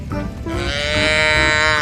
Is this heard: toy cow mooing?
yes